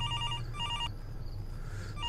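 Telephone ringing in the horror game Don't Answer: two clear electronic double-tone rings close up, followed by a quieter stretch of room ambience.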